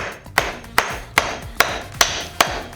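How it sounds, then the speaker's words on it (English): A hammer taps a plastic joint into place with six evenly spaced, sharp knocks, close and loud, each ringing briefly before the next. "bring it down onto the ground using our hammer. Start with a couple of taps."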